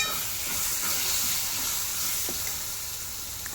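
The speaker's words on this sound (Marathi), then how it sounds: "मस्त आता आपला मसाला भाजलेला आहे।" Misal masala roasting in oil in a pan gives a steady, close sizzle with faint crackles, continuous throughout with no talking.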